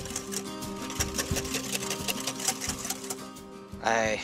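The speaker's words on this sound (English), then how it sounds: "you now need to whisk your egg yolk until pale and fluffy" Egg yolks and caster sugar being whisked with a steady, buzzing mechanical whir and a regular ticking rattle, fairly quiet, ending in a brief higher sweep.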